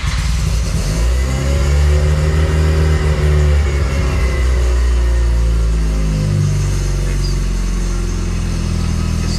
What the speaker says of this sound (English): So now we should be able to start the car.